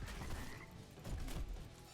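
Summoned frogs belonging to the hero Nazeebo croak in a video game, forming a quiet, continuous croaking texture with no talk over it.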